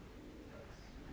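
Sprint racing pigeons coo softly inside a loft, the low murmuring blending into a constant dull background rumble with no clear voices.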